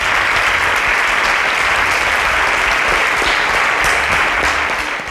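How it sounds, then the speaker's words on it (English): A crowd at a televised quiz show breaks into sustained, loud applause, a dense even wash of clapping that holds steady for the whole stretch before easing slightly at the end. "A round of applause for our sponsors"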